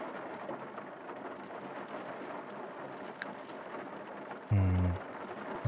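Steady rain falls in the farming game Grimshire, a dense even hiss throughout, broken near the end by a brief deep thump.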